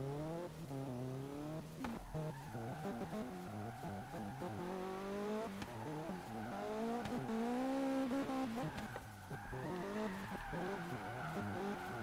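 A 2013 Mazda Miata drifts through a race in a driving game, with sustained shrieking tire squeal and a rising, falling engine note that runs throughout without pause.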